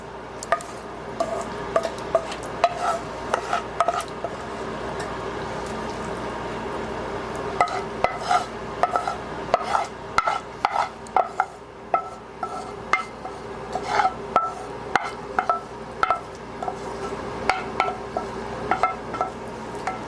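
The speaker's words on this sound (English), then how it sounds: "now I'm going to add the spinach that I have sauteed onto this. And you're just going to spread it." Spoonfuls of sauteed spinach scraped from a spoon and spread over raw meatloaf, giving soft wet rubbing and squishing sounds with light clinks of a utensil, steady and close throughout.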